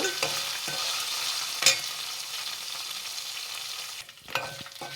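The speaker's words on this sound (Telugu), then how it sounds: "అల్లం వెల్లుల్లి కాసేపు అలాగా ఆయిల్లో కొంచెంసేపు అలాగా ఉంచి వేగనిచ్చిన తర్వాత" Ginger, garlic and green chilli fry in hot oil, making a steady close sizzle broken by a few sharper scrapes and knocks of the stirring spoon.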